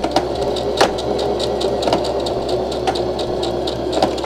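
A sewing machine stitches a satin bonnet in a continuous run, with a steady motor whir and faint rhythmic clicks of the needle.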